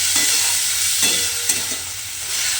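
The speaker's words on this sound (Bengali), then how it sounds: "ডালটাকে এইভাবে একটু পেঁয়াজ আদা কাঁচা লঙ্কার সঙ্গে খুব ভালোভাবে আমি কিন্তু ডালটাকে একটু ভেজে নেব" Masoor lentils fry in a pan with onion, ginger and green chilli, giving a steady loud sizzle with a few soft stirring scrapes, close and alone without talk.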